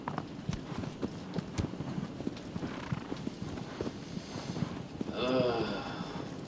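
Horse hooves clop rapidly in a steady galloping rhythm in the video game Shadow of the Colossus, close and continuous, with a brief whinny-like swell near the end and someone talking over it.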